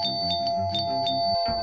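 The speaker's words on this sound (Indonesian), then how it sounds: "Yeay, bunyi bel pintu." Doorbell ringing with a bright repeated ding-dong chime, several clear tones in quick succession, loud and close with no talk.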